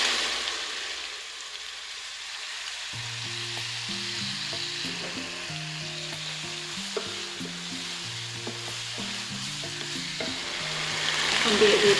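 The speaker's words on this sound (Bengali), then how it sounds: "এখন আমি দিয়ে দিচ্ছি 2 টেবিল চামচ আদা বাটা, 1 চা চামচ রসুন বাটা" Ginger and garlic paste sizzles and fries steadily in a pan for hilsa fish paturi, a continuous crackling hiss with music playing throughout and growing slightly louder near the end.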